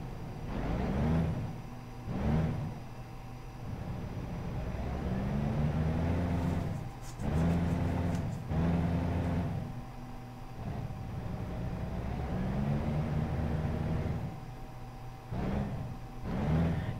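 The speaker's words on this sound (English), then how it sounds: "this is the Volvo engine you are hearing" A Volvo VNL truck engine in American Truck Simulator drones and rises with throttle, settling back between pulls, close and steady with no talk.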